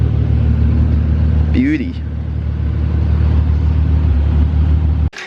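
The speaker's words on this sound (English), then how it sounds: "Might take this one because I love the screamer pipe." A track-prepped car with a screamer pipe exhaust idles loud and close, a deep steady drone that lifts briefly midway, while a voice speaks a single word over it.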